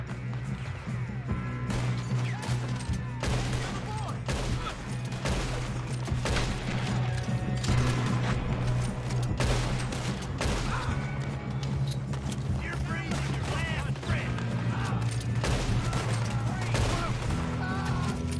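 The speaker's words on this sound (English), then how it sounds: "Good shooting, kid" A prolonged video game shootout with rapid, repeated gunshots and sharp cracking impacts, dense bursts of fire that keep going across the whole stretch, with voices shouting now and then.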